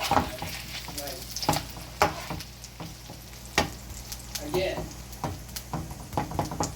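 A burger patty fries in a pan with a constant crackling sizzle, broken by sharp clicks and scrapes from a utensil at irregular intervals.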